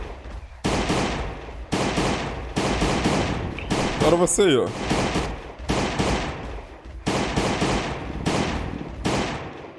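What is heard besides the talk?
gunfire in a video game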